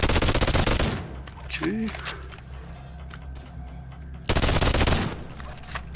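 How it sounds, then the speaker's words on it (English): Yellow gun firing in a video game: rapid automatic bursts at the start and again near the end, with quieter game ambience and a brief spoken word in between. "Okay, time to swap to this guy, normal Yellow Gun."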